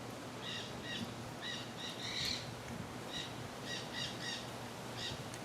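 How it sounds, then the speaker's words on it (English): Parrots call outdoors beside a house on a windy morning, a series of short, harsh squawks repeating in bursts at moderate distance over steady wind noise. "You hear the parrots?"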